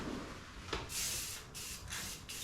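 Short aerosol spray-paint can bursts hissing onto a 1995 Chevrolet Silverado OBS pickup truck, a few broad airy sprays close by with brief gaps between them, then sputtering out as the can runs empty.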